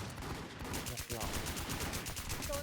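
Rapid automatic gunfire in the Warz survival shooter game, dense bursts of shots firing in a fast continuous rhythm, loud and close throughout.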